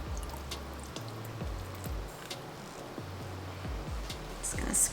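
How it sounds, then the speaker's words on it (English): Soap batter being poured for a mountain-themed layered soap, a soft, faint drip and trickle with a few low thumps, quiet and close. "So we're going to start to pour."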